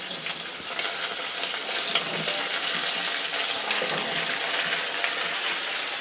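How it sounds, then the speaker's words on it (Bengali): Papaya and beans hit hot oil in a kadai already seasoned with bay leaf and dried chilli, giving a continuous, even sizzle and crackle of frying, close and steady throughout. "একসাথে সব আনাজগুলো কড়াইতে দিয়ে দিলাম"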